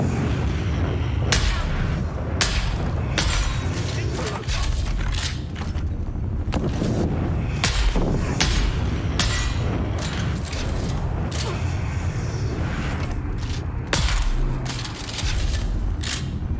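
Repeated loud sniper rifle shots fired in the sci-fi game Dune: Awakening, sharp booming cracks at irregular intervals over a continuous rumbling, mechanical background.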